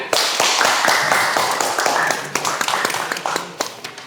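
Classroom applause for students after a presentation on vehicle lighting and signal lamp systems, sharp hand claps from a group, fairly close and loud, thinning out toward the end.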